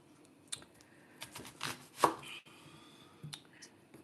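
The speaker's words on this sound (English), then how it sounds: "I'm just chopping up some onion." Onion being chopped with a knife while preparing a vegan mung bean scramble: faint, scattered knife taps on a board, irregularly spaced with quiet gaps, heard alone.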